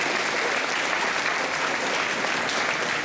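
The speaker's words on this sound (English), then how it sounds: "Yes, a round of applause, please." Applause for residential parents at a school opening assembly, dense, even clapping from a large audience, loud and continuous throughout.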